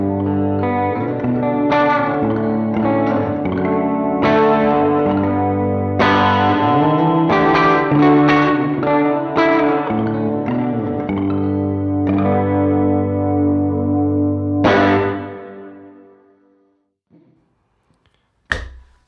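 Electric guitar played through a Strymon BigSky MX reverb pedal on its Magneto preset, chiming chords and notes washed in long, echoing reverb, then trailing off into a fading tail and near silence at the end; no talking.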